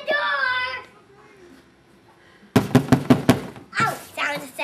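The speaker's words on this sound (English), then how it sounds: "Knock on the door." Someone knocks on a home door, several loud sharp raps in a quick rhythm after a quiet pause, with a young girl and an adult talking before and after.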